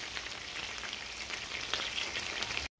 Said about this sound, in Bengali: চিকেনটাকে আমি এমনভাবে ফ্রাই করে নিচ্ছি যেন চিকেনটা এই ফ্রাইয়ে হাফ কুক